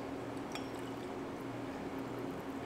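Brewed coffee poured from an Origami pour-over dripper, a steady, soft liquid trickle running continuously at close range with no voices.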